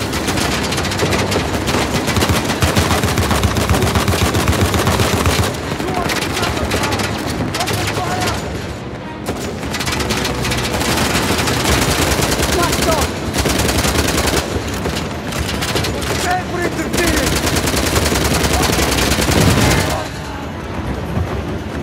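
Heavy, continuous gunfire and explosions in the action game Uncharted: The Lost Legacy. The dense battle noise runs loud for over twenty seconds while a voice talks over it.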